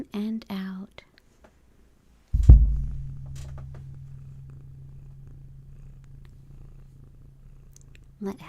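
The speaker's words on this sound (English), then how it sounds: "Let Hattie's purrs bring you back" A cat purrs up close as a low, steady rumble that starts abruptly after a brief quiet spell and continues evenly for several seconds, with soft speech at the very start and end.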